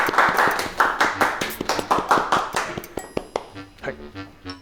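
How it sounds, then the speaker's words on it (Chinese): Several people clap briskly in a steady rhythm to welcome a guest, close and bright, the claps thinning out toward the end with a few isolated taps. "掌声欢迎超认真老年。"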